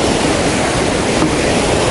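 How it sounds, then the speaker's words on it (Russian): Sea waves at a pier near the Khosta river mouth in Sochi in December make a loud, continuous rushing wash with no voices. "Поближе вам. Волны."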